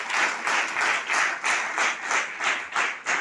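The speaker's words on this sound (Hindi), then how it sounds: "ताली बजाइए जबरदस्त तीनों के" An audience at a direct-selling leadership meeting claps in a steady rhythmic beat, about eight even bursts of group clapping in a row, fairly close and loud.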